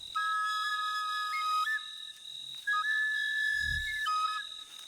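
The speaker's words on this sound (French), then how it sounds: "les chasseurs préviennent avec leurs sifflets qu'ils ont été victorieux sur la brousse" Hunters in the Burkina Faso bush blow signal whistles: loud, clear, sustained tones that step between two pitches in repeated phrases, with a short gap midway and no talking.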